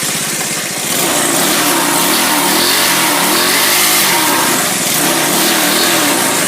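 Small push-mower engine fitted to a homemade go-kart idles with a steady, loud buzzing drone, its pitch wavering slightly as the engine holds a raised idle, close by and alone.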